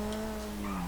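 A modded car's engine in GTA 5 revs steadily and loudly as it launches from a standstill, its even drone filling the whole short moment without any talk.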